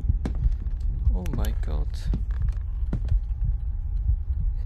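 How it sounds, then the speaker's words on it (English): A thudding heartbeat sound effect pulses slowly through a scary video game over a low hum, while a person speaks briefly over it. "Why is this doing that stupid heartbeat?"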